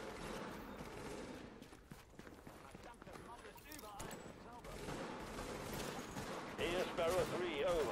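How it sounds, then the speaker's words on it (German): Bursts of gunfire pop in the shooter The Division, rattling intermittently through a busy game soundscape while a German-speaking player talks over the action. "von da wird schon geschossen?"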